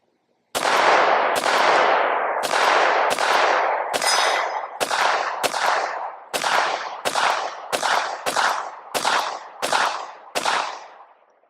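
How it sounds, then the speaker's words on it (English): A Palmetto State Armory Dagger Micro C-1 pistol fires full metal jacket rounds outdoors: about fourteen loud, sharp shots in a steady string, each followed by a brief decaying echo, faster toward the end. "Let's go ahead and shoot 50 rounds,"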